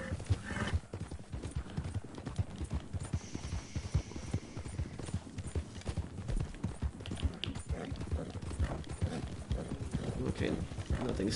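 Horse hooves of a black Arabian horse in the video game Red Dead Online clop in a quick, steady rhythm throughout, close and clear, with a person talking over the galloping.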